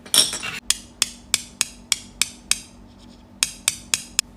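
Silver-coated sugared almond candy bitten hard, giving a run of about ten sharp, metallic clicking cracks at a steady, evenly spaced rhythm, close and loud with no talk.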